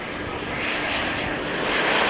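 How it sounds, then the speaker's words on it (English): An Embraer 190 jet approaching Amsterdam Schiphol Airport, a steady broad engine roar that swells slightly louder as it draws nearer, heard alone without voices. "another Embraer 190 is making its way over here"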